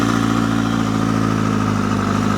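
Yamaha R7 motorcycle fitted with an R1 engine and a Graves exhaust, idling steadily after starting, a continuous loud even engine note held close up with no talk.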